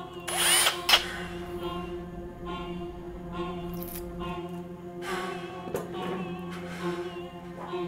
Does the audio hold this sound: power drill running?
yes